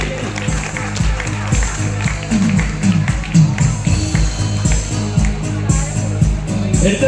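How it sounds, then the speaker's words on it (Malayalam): An audience claps at a school Grandparents' Day celebration for Class 2 and 3 children, a loud sustained round of applause with a voice sounding over it. "നല്ലൊരു കയ്യടി"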